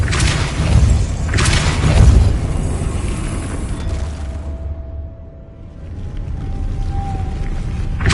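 The Depulso spell fires in the Hogwarts Legacy game, a loud booming burst with a rumbling tail, followed by a quieter stretch with a thin ringing tone.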